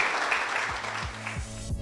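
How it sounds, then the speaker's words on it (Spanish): A church congregation after a sermon gives brief, fairly faint applause that fades out, heard from a distance with some low thumps beneath. "Denle un fuerte aplauso a la presencia de Dios."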